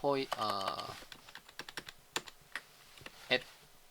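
Clicky computer-keyboard keystrokes tapped in a quick irregular run, including a Tab press, while a developer codes a foreach loop in an ASP.NET Core web app; a voice talks briefly at the start.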